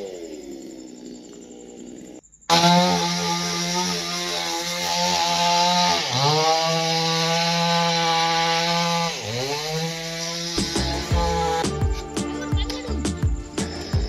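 A chainsaw cuts down a tree on a building site, starting abruptly after a quiet moment and running loud and close, with its engine pitch dipping twice as the blade bites, then sputtering into choppy bursts near the end.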